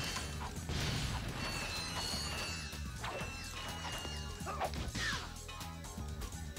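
Gameplay from Ratchet & Clank: busy metallic clanks, crashes and mechanical clatter as bolts are picked up, with brief bright chiming bursts scattered through a dense game soundtrack.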